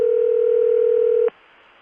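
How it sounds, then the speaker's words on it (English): A steady electronic telephone ringback tone from a 1982 oil company CCSA network, with a faint carrier-noise hum beneath it, holding for over a second before cutting off sharply into low background hiss. "The ring sounds like this."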